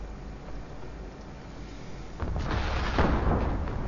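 In the submarine game Silent Hunter IV, a torpedo detonates early, a deep rumbling boom that rises out of a steady low ambient wash and swells for a couple of seconds.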